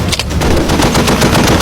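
An M2 Browning heavy machine gun fires a rapid, continuous burst of loud, close shots in an even, fast rhythm, with no voices.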